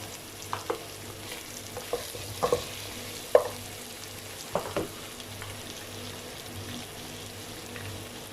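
Masala with turmeric cooks over a low flame, giving a quiet, steady sizzle broken by scattered soft scrapes and clicks of stirring, with no voices.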